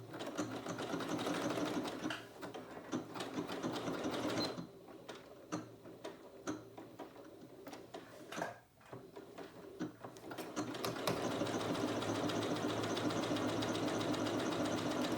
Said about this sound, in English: So all I'm doing is stitching this little top part.